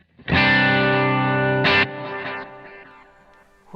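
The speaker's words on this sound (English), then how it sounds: "which is a small hall sound" An electric guitar chord rings out through a small hall reverb preset on an HX Stomp in a worship pedalboard rig. It sustains, then a second strum briefly lifts it before it fades into a soft reverb tail.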